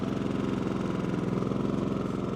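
A bargain airless paint sprayer pump runs steadily while priming and circulating water to purge air bubbles, giving a close, even, rapidly pulsing mechanical drone with no voices.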